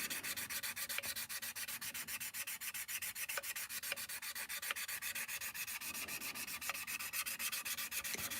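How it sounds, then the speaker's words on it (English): Continuous close-up rubbing of abrasive on an Airfix Concorde plastic model kit, steady rapid back-and-forth strokes with no pauses, loud and alone. "But the more you sand, the more it disappears."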